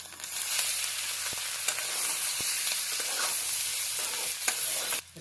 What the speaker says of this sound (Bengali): এখানে আমরা দিয়ে দেবো ভেজে রাখা মাংস।